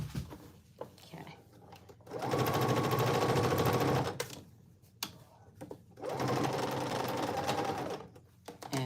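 A sewing machine stitches a bar tack on cargo pants in two sustained bursts of rapid whirring, separated by a pause with light handling noises, moderately loud and close.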